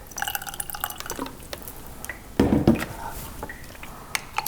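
Water added to a honey and mustard dressing, small drips and clinks against a glass container followed by a brief louder pour of liquid in the middle.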